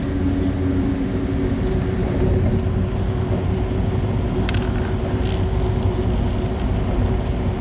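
A passenger train leaving Penn Station in New York rumbles with a steady, loud, continuous roar from inside the car, passing near a rail junction and freight yard.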